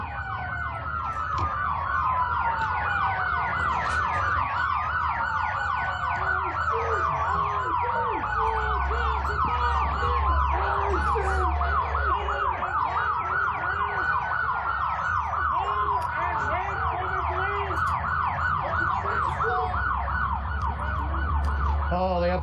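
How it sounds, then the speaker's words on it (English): Emergency vehicle sirens wail and yelp at a street protest where demonstrators block the road, several overlapping siren tones sweeping loudly and continuously alongside engine rumble and faint voices. "they have to turn the sirens off because they can't take their own sound"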